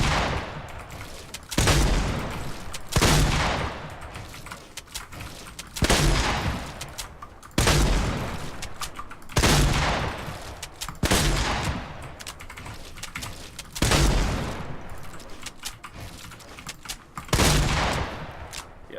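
Rapid bursts of video game gunfire in an edit course, loud and close, repeating in clusters roughly every two seconds with short gaps between volleys.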